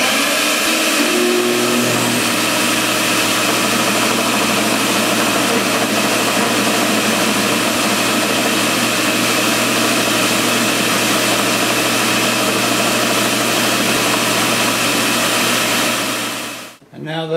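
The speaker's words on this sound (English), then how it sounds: "I'm going to turn on my dust collector and then the sander." A dust collector and a stationary belt sander run together in a wood-turning shop, a loud, steady mechanical roar that holds for the whole stretch before cutting off abruptly at the end.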